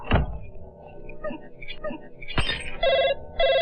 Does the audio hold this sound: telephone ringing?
yes